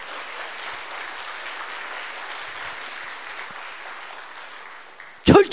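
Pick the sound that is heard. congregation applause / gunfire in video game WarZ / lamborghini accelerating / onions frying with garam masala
congregation applause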